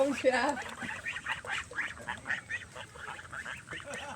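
Ducks quack and chatter in short bursts while a person talks over them nearby.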